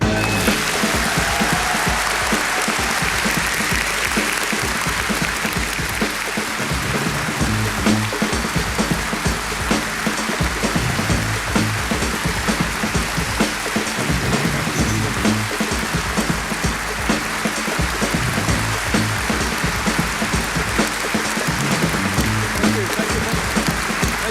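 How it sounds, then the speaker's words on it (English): A large audience in the Muziekgebouw aan het IJ concert hall in Amsterdam gives loud, sustained applause to welcome a speaker. The dense, even clapping fills the whole stretch with no voices over it. "I'm going to interview and give him a warm applause, John Grisham"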